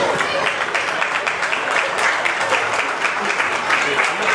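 An audience at a 70th anniversary tribute claps steadily and loudly, a thick continuous wash of applause with no pause across the few seconds.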